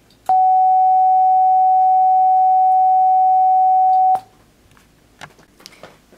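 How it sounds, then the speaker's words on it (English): A pure sine-wave test tone plays as one steady, unwavering note for about four seconds and then cuts off abruptly, leaving faint scattered noises. "This next pitch is a sine wave at 750 hertz."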